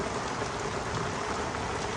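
Heavy rain falls in Chaiyaburi, a dense, steady hiss of downpour with no gaps, loud and close, with no voices.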